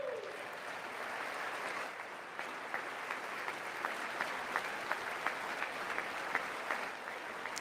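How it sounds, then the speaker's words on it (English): Applause from the chamber audience at a presidential State of the Union address, a steady wash of clapping with a few sharper individual claps standing out, moderately distant and with no talk over it. "Three Democrats applauding that"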